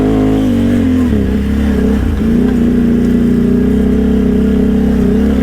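Can-Am Outlander 800 ATV engine revs loud and close with a steady, throaty drone, its pitch dipping briefly and then climbing back to a sustained high-rpm roar.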